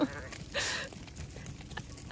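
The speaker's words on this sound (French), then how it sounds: "Il y a tous les moutons maintenant qui vont passer." Flock of sheep and other livestock passing by outdoors, a burst of bleating about half a second in, then scattered faint animal calls and shuffling at moderate distance.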